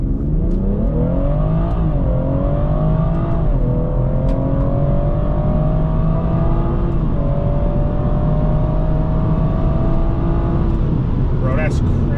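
A BMW with a B58 engine and MHD Stage 1 tune accelerates hard from a stop, loud steady engine drone rising through gears with brief shift dips, heard from inside the car.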